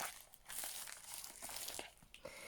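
Close, quiet crinkling and tearing of plastic wrapping in short bursts, with soft rustles between them.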